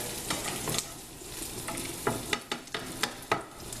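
Onions browning in a pan on the stove give a soft, steady sizzle, punctuated by several close, sharp scrapes and taps of a utensil stirring them.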